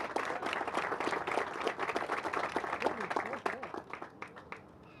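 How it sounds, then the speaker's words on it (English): Audience applause for a high school drum line at an outdoor park aquatic complex groundbreaking ceremony, a steady patter of clapping lasting several seconds that thins and fades toward the end, with voices mixed in. "Let's hear a round of applause for them."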